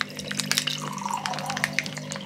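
Water poured from a tap or kettle into a dehydrated rice meal pouch, a steady close splashing trickle with small drips and faint room noise, no talk.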